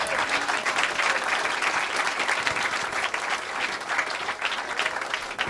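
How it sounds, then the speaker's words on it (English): Steady, full applause from a large audience at a community panel event, sustained and dense from start to finish with no talk over it. "One more time, a round of applause for the entire panel"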